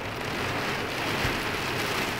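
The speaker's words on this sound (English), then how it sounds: "listen to this rain." Heavy rain pouring down outside, a loud, continuous roar of drops on surfaces with a faint low rumble, heard alone without talk.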